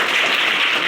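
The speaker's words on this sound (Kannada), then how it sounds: "ಅವ್ರಿಗೊಂದು ಚಪ್ಪಾಳೆ ಹಾಕಿ ನನ್ನ ಪರವಾಗಿ ಸ್ವಾಗತ" An audience claps for a teacher at a village gathering, a brief, loud, dense burst of many hands applauding together, with no talk over it.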